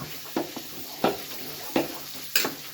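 Cassava fufu mixture being stirred in a pot, four distinct scraping stir strokes at a steady rhythm, close and fairly loud against a low background hum.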